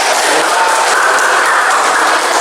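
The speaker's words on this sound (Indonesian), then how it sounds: "Beri tepuk tangan untuk kelompok 3" Loud, dense clapping from a class or group audience in an Indonesian teaching session, honoring a presenting group, a continuous wash of hand claps with no voices over it.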